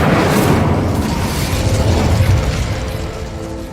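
A fire spell is cast in the Hogwarts Legacy video game, giving a loud, rumbling burst of flame that swells at once and roars steadily for several seconds, with faint tonal hum underneath, fading slightly at the end.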